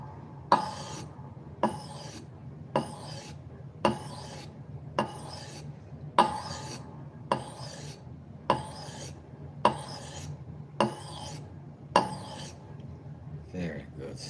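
A piece of unidentified wood is sanded by hand with 3000-grit sandpaper in a regular rhythm of about a dozen crisp rasping strokes, close up, with a faint voice underneath.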